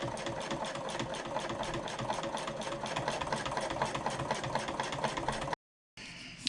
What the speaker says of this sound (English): I have top stitched our entire handle